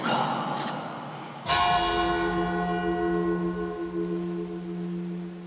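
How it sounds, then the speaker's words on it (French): The Totenglock, a church bell of the dead hung in 1427, rings out with one loud strike after a quiet start, its long humming partials fading slowly as they sustain to the end. "la Totenglock, la cloche des morts, accrochée en 1427"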